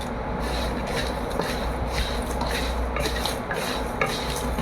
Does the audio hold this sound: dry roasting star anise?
yes